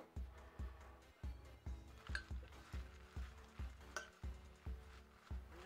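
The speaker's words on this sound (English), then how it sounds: "let's mix this baby up with a spoon" A spoon stirs popcorn mixed with ranch and butter in a bowl, giving soft, evenly spaced scraping and rustling strokes roughly twice a second, quiet and close, with a couple of faint clinks.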